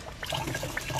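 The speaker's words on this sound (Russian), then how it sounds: "Вот водичка капает в ведро с крыши." Meltwater from a thawing icy roof in Donetsk dripping and splashing into a bucket, a close run of quick, uneven liquid plinks and trickles over a brief second.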